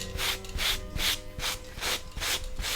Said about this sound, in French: j'ai une brosse qui vient relever les fibres de mon velours